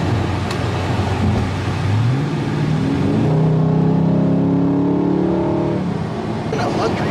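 Supercharged Dodge Durango engine revving up and holding a steady, rising drone, loud and close, with people talking over it and a brief fade at the end.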